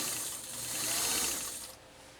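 A Pfaff 230 sewing machine zigzag-stitches through four layers of heavy-grade denim, a steady close mechanical whirr and clatter that runs evenly for about two seconds before dropping off.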